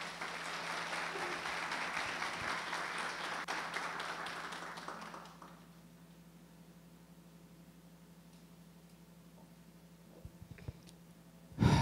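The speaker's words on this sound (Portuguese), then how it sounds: "Aí, salva de palmas para ele, né?" Audience applause at a motivational live event, a dense crowd of clapping for about five seconds that then fades into near-silent room tone.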